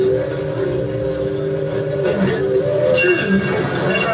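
The Runaway Mine Train, a 1966 tubular steel roller coaster, rumbles along its track with a continuous heavy rolling roar, metallic rattles and a few brief squeals, loud and close throughout.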